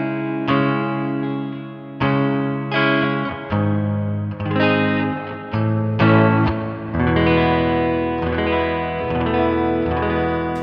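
An electric guitar played through a Line 6 POD Express set to a dynamic hall reverb rings out in struck chords, each one blooming into a long, washy hall tail, with no talking.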